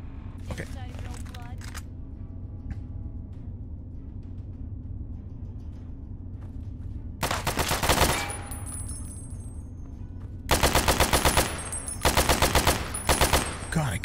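Assault rifle fire in Fallout, Tale of Two Wastelands, loud rapid automatic bursts in two or three volleys separated by quieter stretches of low ambient hum and faint game sounds.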